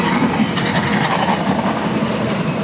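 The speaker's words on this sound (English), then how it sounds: "And there goes the end of our train coming up" A freight train rolls past on the track near Madisonville, Kentucky, as a steady, loud rumble with faint clickety-clack from the wagons and no voices.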